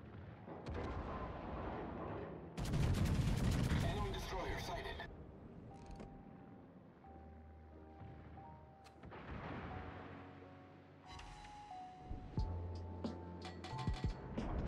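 Heavy warship naval gunfire in World of Warships aboard the Montana battleship, booming salvos and deep rumbling explosions at varying distances, with game sound effects between bursts and a player talking over it.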